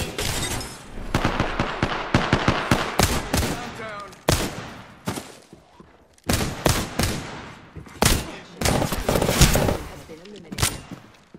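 Gunfire in a battle royale game, loud clustered bursts of rapid shots separated by short pauses, close and punchy, with a voice speaking between the volleys.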